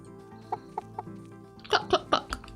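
Chickens in the video game Staxel cluck in a short series of close, sharp clucks, sparse at first and then quicker and louder, over a faint background tone.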